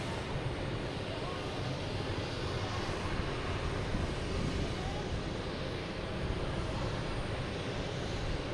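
Lufthansa Airbus A340 airliner flying over Pleasure Bay near Logan Airport, a steady broadband jet roar that holds evenly throughout, with faint background noise.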